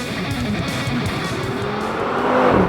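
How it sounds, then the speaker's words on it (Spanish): An Audi TT RS 8S on Pirelli P Zero tyres is driven hard, its engine a steady, loud drone heard from inside with faint tyre noise, the revs climbing slightly toward the end. "Qué ilusión conducir este coche"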